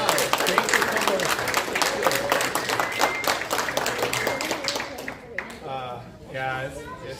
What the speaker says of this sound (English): So I ask a special clapping for Brian and Sharon.